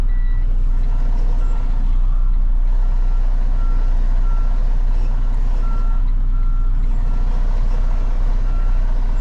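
A Pepsi delivery truck backs up, its reversing alarm sounding a steady series of loud, evenly spaced beeps over a constant low diesel engine rumble.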